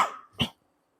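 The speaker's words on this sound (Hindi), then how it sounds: "माफ करना भाई, थोड़ी खांसी हो गई थी।" A single sharp cough close to the mic, following a fading sound, then silence.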